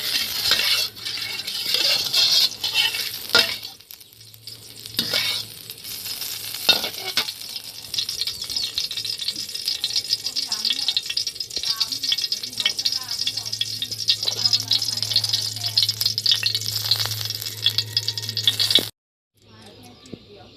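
Minced pork sizzling in a little hot oil in a pan for a stir-fry, a steady loud frying hiss throughout with occasional clinks of a utensil against the pan, cutting out near the end.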